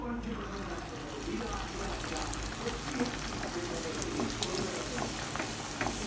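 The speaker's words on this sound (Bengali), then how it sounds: "তো আমাদের বেলা হয়ে গেছে মোটামুটি, তো এবার আমরা একটা একটা করে ভেজে নেব।" Food pieces dropped one by one into hot oil, giving a continuous crackling sizzle with scattered pops, alongside a person talking.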